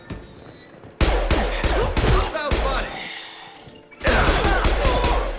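Combat in Mass Effect 2 with Shadow Strike and Flashbang abilities: loud bursts of impacts, crashes and gunfire-like blasts, a lull near the middle, then another heavy barrage.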